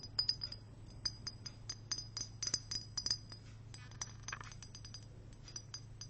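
Small candle holders clink together in a candle store, a string of light, high, chimey glassy taps and rings, some in quick clusters and others spaced apart, quiet and close with no talking.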